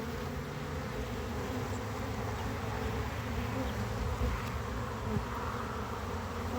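Dense, steady buzzing of many honey bees swarming around an opened beehive during a honey harvest, close and continuous throughout with no voices.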